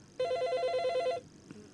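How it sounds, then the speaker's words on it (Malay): A telephone rings once in a single bright electronic burst of about a second, close and clear, followed by a faint click in a quiet room. "Ni satu telefon lagi."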